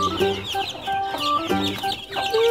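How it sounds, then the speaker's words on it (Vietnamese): A hen and chicks cluck continuously nearby, overlapping calls in a busy, steady chatter with no talking. "kia là gà mẹ và những chú gà con kìa"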